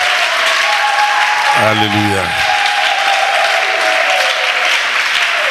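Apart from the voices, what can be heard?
church congregation applauding the pastor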